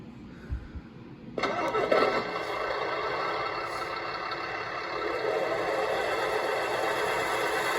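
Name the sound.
1/14 scale RC Mercedes Zetros 6x6 truck driving forward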